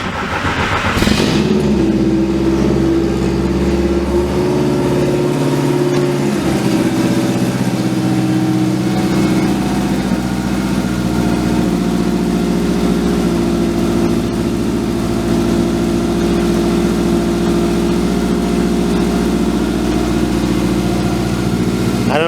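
A Subaru EJ22 engine swapped into a Volkswagen Beetle starts up and runs loud through a side muffler, a steady close rumble that idles and revs at a constant heavy level throughout with no talk.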